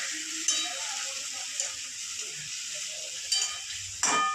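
Spices fry in a pan with a steady, close hissing sizzle and a few light clinks of stirring, with no talking.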